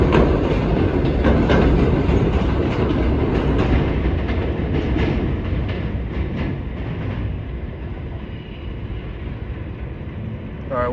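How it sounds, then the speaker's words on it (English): A New York subway train rumbles and clatters through Buhre Avenue station in the Bronx, a loud, continuous rolling roar with rhythmic wheel clicks that slowly eases over about eleven seconds, with no talking. "I think here comes an express train."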